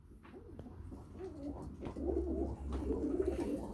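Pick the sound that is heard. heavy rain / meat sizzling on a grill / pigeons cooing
pigeons cooing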